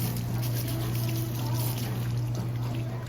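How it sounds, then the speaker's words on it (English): Water runs steadily from a tap at a hand washing station in a cruise ship's buffet cafe, a constant trickle over a low hum. "the hand washing stations here on the Ocean View Cafe"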